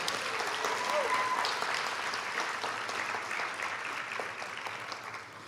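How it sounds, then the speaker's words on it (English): Sustained applause fills a high school graduation ceremony hall, honoring the assistant principal; a thick, steady roar of many clapping hands slowly tapers toward the end. "please give a round of applause for Ms. Nadia Klein-Taylor, our assistant principal with us most of your year."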